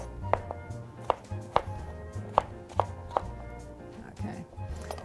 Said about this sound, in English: Just kind of coarsely chop this.